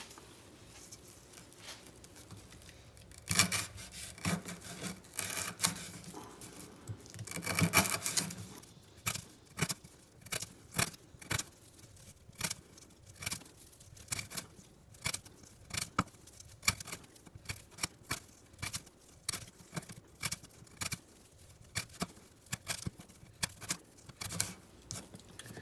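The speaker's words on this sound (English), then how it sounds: "we're gonna cut up some 1/2 inch twisted sisal rope" Bestech Nogard knife slicing through half-inch twisted sisal rope, a long series of sharp, close cutting snaps and crunches at an irregular steady pace, with a few heavier rustling bursts early on and no talking.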